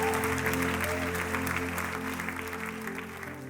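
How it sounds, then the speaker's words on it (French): Applause from a church congregation after a sermon, a fairly soft, steady patter of clapping over a sustained musical backing, gradually easing off toward the end. "On l'applaudit encore bien fort."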